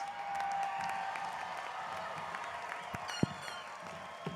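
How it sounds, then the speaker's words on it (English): Audience at a business college graduation ceremony gives a faint, distant round of applause. The soft, steady clapping lasts a few seconds and is followed by a couple of sharper knocks near the end. "Let's give Chris an extra round of applause."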